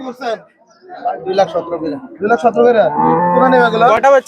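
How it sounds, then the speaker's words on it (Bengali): Bullocks at a busy cattle market in Chandina low and moo close by, one long drawn-out moo rising over the crowd's chatter and shouting voices. "দেখছি অনেকগুলো গরু একসাথে বিক্রি করে ফেলছে মাহ ভাই"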